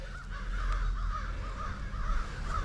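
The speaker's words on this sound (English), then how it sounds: "the crows are noisy this morning" Several crows caw repeatedly in the morning near a rail terminal channel, a steady series of harsh calls at moderate distance over low outdoor rumble.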